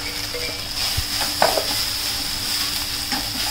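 Finely chopped onions, curry leaves and fresh ginger-garlic paste fry in a little oil for sambar, giving a continuous steady sizzle with a few faint stirring clinks.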